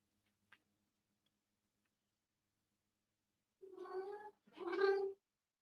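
A pet cat gives two drawn-out meows in quick succession, fairly close and clear, after several seconds of near silence broken by a faint tick.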